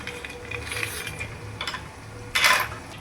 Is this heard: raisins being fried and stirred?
yes